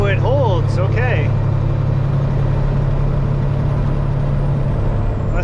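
A Peterbilt truck with a fueling fault roars loud and steady at full throttle, its deep drone holding through a gear shift with a brief air-brake hiss at the start.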